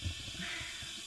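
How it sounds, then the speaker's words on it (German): A pressure cooker hisses on a stove while cooking dog food, a faint, steady hiss of escaping steam with soft low thumps underneath and no voices. "Koch gerade mit einem Schnellkochtopf."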